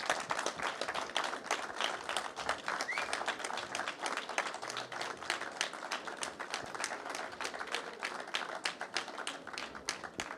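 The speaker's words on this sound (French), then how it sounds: "Merci beaucoup, je pense qu'on peut les applaudir." An audience applauds after a round-table discussion at a science evening, sustained dense clapping from a sizeable crowd filling the room evenly for the whole stretch.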